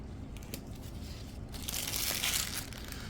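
Scissors snipping the tip off a plastic piping bag filled with resin, a brief quiet crinkle and cut close up, over a low steady background hum.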